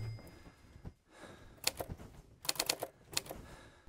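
Typewriter keys in the horror game EDEN strike in uneven bursts, sharp close clacks clustered in quick runs with pauses between.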